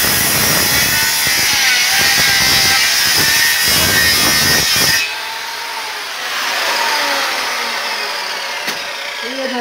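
A Black&Decker CD601 circular saw with a 55 mm blade cuts through a thick pine beam. A loud, steady whining buzz runs for about five seconds, then stops abruptly, leaving the motor spinning down quietly.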